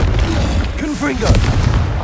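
Confringo fire-blast spell cast in Hogwarts Legacy on PS5: a short, loud booming burst with a crackling tail, close and alone.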